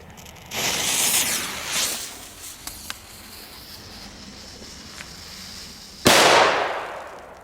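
Bufalo series firecrackers explode as hissing bursts followed by one sudden sharp bang that decays over a couple of seconds, loud and close, with no one speaking.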